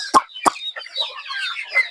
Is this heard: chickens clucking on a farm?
yes